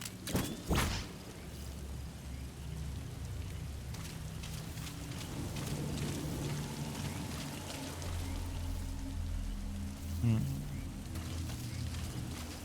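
Steady rainfall in Metal Gear Solid V, a soft continuous patter with scattered droplet taps, a couple of sharp knocks and a low rumble, faint beneath distant game sounds.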